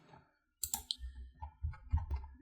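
A mouse button clicks once, close and sharp, followed by low rumbling handling noise and soft desk sounds.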